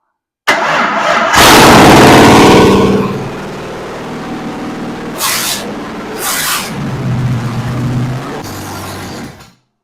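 A 302 V8 car engine on a budget rebuild, freshly fueled through the carburetor, cranks briefly, catches with a loud roar, settles into a rough idle with a couple of sharp blips, then shuts off.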